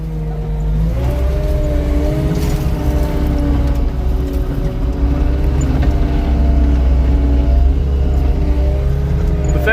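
A logging truck rolls slowly along a rough log road in the woods, its engine producing a steady, close, droning rumble with shifting tonal hums and no voices throughout.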